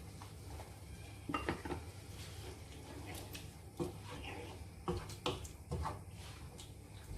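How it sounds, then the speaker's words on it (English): Chopped tomatoes tipped into a cooking pan, giving a few scattered metallic clanks and soft wet thumps against steady low background noise, with no talk over them. "And then we'll add in the chopped tomatoes."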